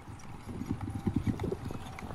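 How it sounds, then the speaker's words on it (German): Hooves of four horses pulling a carriage in a powerful trot across a dressage arena, a brisk steady clip-clop rhythm sounding fairly close and moderately loud. "der hier mit diesen vier Pferden mit mächtigem Trab durch die Diagonale kreuzt."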